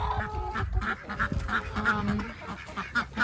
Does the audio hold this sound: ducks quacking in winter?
yes